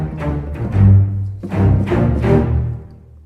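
Layered orchestral strings ending with LA Scoring Strings spiccato, played as short, biting, rhythmic bowed phrases in several swelling bursts over about three seconds, with no talking.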